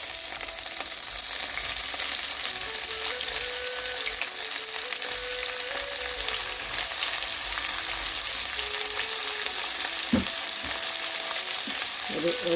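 Sliced big onions fried in oil in a pan for cauliflower gravy, a steady loud sizzle running throughout with a brief clatter near the end, close by and with no talk.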